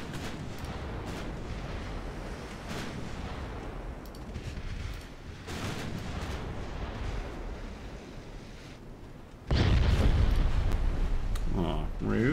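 Torpedo hits and explosions rock a warship in a naval combat video game, with rumbling booms and roaring blasts across the span and a sudden louder eruption near the end.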